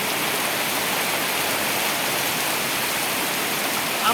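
Steady, dense rain pours down during flooding in Gazipur, a constant hiss of water with no breaks or voices, loud and even from start to finish.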